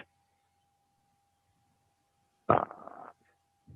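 A long, loud flatulent burst with rough broadband texture, lasting about half a second and trailing off; the rest is near-silent apart from a faint steady tone and a brief noise at the end.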